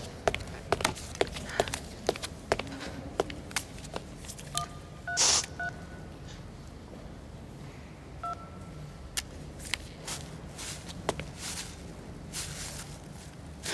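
Telephone number being dialed, a series of short tonal beeps spaced irregularly with light rustling and footstep-like taps in the background of a quiet room.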